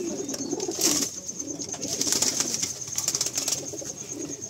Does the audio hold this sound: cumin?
no